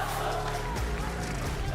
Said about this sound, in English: We're just getting fucking booed.